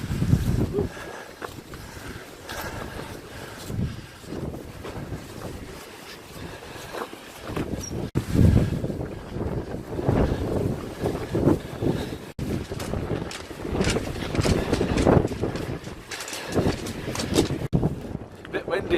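Strong wind on Pendle Hill roars and gusts across the microphone in heavy, surging buffets over a blustery walk, while people talk intermittently beneath it.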